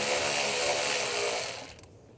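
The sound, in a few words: 8mm socket ratchet loosening a worm clamp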